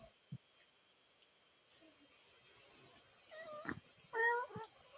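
A pet cat meows faintly at a distance in a quiet room, giving a few short, rising calls near the end that follow scattered soft clicks and taps.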